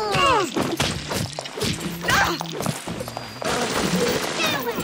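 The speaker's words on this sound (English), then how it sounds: "now you're firing at a big daddy" Rapid gunfire at a Big Daddy in the video game Bioshock, bursts of loud shots and heavy impacts mixed with metallic clanks and a creature's groans, a chaotic close-up fight with brief gaps between volleys.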